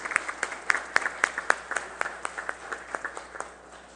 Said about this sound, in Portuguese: Eu pediria aqui que a gente fizesse uma salva de palmas para eles.